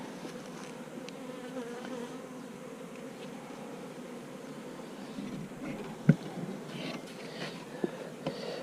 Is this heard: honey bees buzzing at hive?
yes